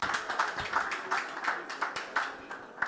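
Audience clapping at an African Games 2023 media briefing in Accra, heard as faint, moderately paced hand claps at a distance with no voices over them.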